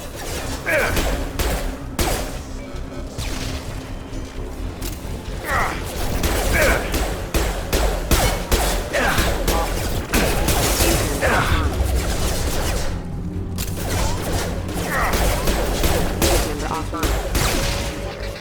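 Rapid bursts of gunfire during a firefight against security mechs in Mass Effect 2, loud and dense with mechanical clanks, crashes and whooshes, while voices talk over the combat.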